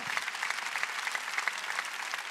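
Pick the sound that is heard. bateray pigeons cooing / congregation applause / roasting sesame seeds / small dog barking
congregation applause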